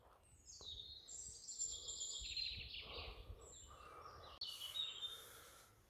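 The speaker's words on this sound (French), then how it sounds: "Les oiseaux semblent calmes." Outdoor birds chirp and trill in quick, bright calls, fairly faint against a low rumbling background, overlapping phrases across the whole stretch with no speech.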